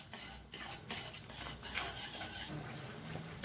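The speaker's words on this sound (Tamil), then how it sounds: "இந்த ஜீனி வந்து நல்லா இறுகி கெட்டியாக வர அளவுக்கு நல்லா கிளறிக்கிட்டே இருக்கணும்" Thickening carrot halwa with sugar stirred by a long ladle in a pot, giving continuous scraping and clinking of metal against the pan, close and steady with soft sizzling underneath.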